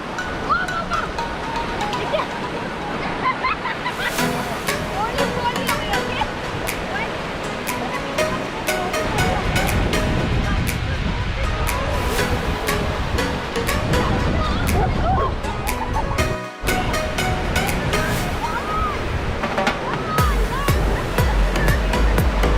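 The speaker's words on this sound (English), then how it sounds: "That's the beach. Delta Beach." Ocean surf washes continuously at Delta Beach in Udupi, a broad, steady rushing roar of breaking waves, with people talking and calling out over it.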